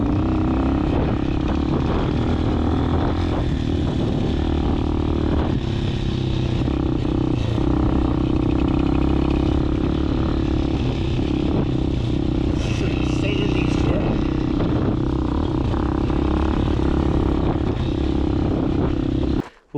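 Hawk 250 DLX motorcycle ridden hard off road, a steady loud engine drone with rattling and scraping from the rough terrain, continuous and close throughout.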